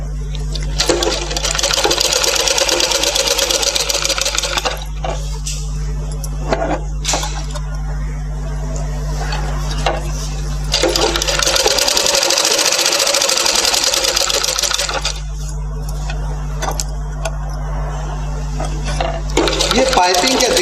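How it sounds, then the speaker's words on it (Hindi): Sewing machine running in bursts as it stitches piping onto a blouse, steady mechanical whirring that starts and stops several times, with a person talking between and over the runs. "धीरे धीरे ये कपड़ा घुमा के फिर उस पर से हम सिलाई डालेंगे"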